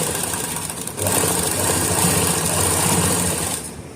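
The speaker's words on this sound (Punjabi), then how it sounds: "ਤੇ ਹੁਣ ਆਪਾਂ ਨੇ ਇੱਥੇ ਸਲਾਈ ਲਗਾ ਦੇਣੀ ਆ" Domestic sewing machine stitching lace trim, a steady rapid mechanical whir with fine rhythmic needle clatter, close and continuous, starting up after a brief pause.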